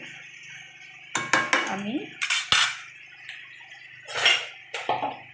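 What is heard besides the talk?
stirring dried fish in a cooking pot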